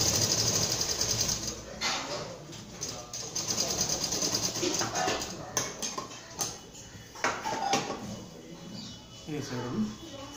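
A sewing machine runs a stitch along a nakaab, a steady mechanical whirring that pauses and restarts several times, close up, with a person talking over it.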